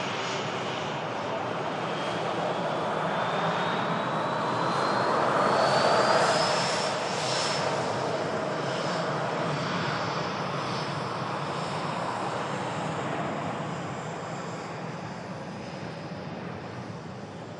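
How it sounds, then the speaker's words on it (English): An Airbus A330 jet begins its takeoff roll at Manchester Airport, a steady distant engine roar that swells to a peak and holds with a rising whine, then slowly eases. "A330 begins the takeoff roll."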